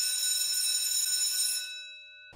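An electronic bell ringing in a school setting inside a roleplay video game, a continuous bright buzzing ring that holds steady then cuts off and fades, with no talking.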